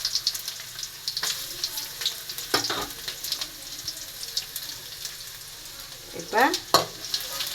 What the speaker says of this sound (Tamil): வெள்ளைப்பூடு, ஜீரகம், வெந்தயம் இது நல்லா நம்ம வேக வச்சுக்குவோம்